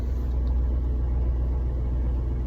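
A truck engine idles in freezing cold, giving a steady, low, close rumble with no talk over it.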